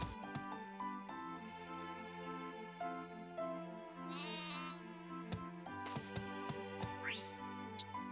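A sheep from the farming video game Harvest Moon: Animal Parade gives a short bleat over looping background music, with a few other game sound effects scattered around it.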